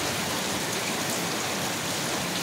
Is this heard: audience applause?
no